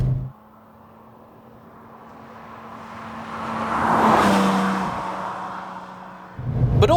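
A Porsche 911 996 GT2 engine drones steadily on the move, its note swelling to a loud peak midway and then easing back, with no talking over it.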